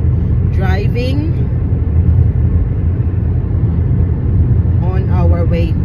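Steady low rumble of a car driving along a road, heard from inside, with a person speaking over it at the start and end.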